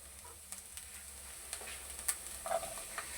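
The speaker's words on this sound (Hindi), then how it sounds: "अब मैं इसके अंदर प्याज डालूँगा, हल्का सा इसको नरम कर देंगे।" Onion softens in hot ghee with eggs in a pan, giving a faint, steady sizzle broken by light crackles and small utensil taps, with no talking.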